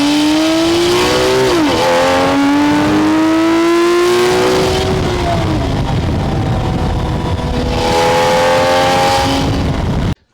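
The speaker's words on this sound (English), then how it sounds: "When that exhaust is on the overrun or just accelerating hard," A Porsche 911 GTS exhaust roars under hard acceleration, rising through gears with sharp shifts, then dips and climbs again loudly before cutting off abruptly at the end.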